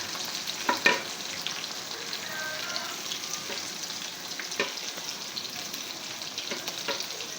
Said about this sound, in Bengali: এই পেঁয়াজটা আমি একটু ভেজে, কড়া করে ভেজে একদম কালা করে ফেলব